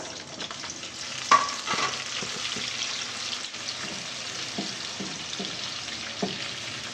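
Chopped onions sizzle in about half a cup of hot oil for a dal tadka, a steady crackling fry with occasional sharper pops and stirring clinks from a spoon, close and continuous with no talking.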